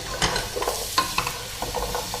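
Pieces of winter squash tumbling into a hot pan with garlic and cumin, then stirred. A few sharp scraping spatula strokes sound over a soft sizzle, near and fairly loud, with no talking.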